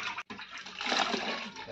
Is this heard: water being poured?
yes